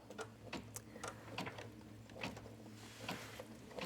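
A home embroidery machine stitches a design onto fabric stretched in a small hoop, giving a steady, close mechanical hum and rapid ticking needle taps in an even rhythm.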